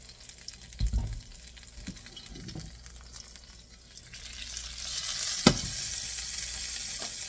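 Oil sizzling and crackling in a hot pan over reduced heat while chicken fajita taco filling cooks, a steady frying hiss with a few louder pops and stirring scrapes, no talking.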